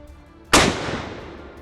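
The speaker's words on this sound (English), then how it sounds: "I really enjoyed shooting this gun." A single loud video game gunshot cracks out, booming like a cannon, then rings off in a long fading tail; no one speaks.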